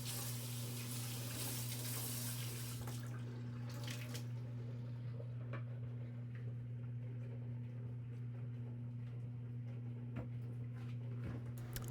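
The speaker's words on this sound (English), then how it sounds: "Now we are going to get to cleaning the sink, and I'm just going to use hot water, dish soap, and a little bit of baking soda as well" Hot water runs steadily from a kitchen sink tap in a constant rushing stream, with a strong low electrical hum beneath it and a few faint clinks.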